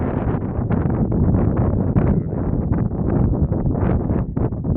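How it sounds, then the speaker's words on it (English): Strong, cold wind roars and buffets the microphone in uneven gusts at a campsite in Haugastøl, Norway, loud and close, with no voices. "it's so windy and so cold"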